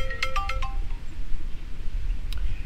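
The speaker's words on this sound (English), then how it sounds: "here's the phone call right here." An incoming-call ringtone chimes in a quick run of bright tones near the start, then falls quiet before a brief faint chirp near the end.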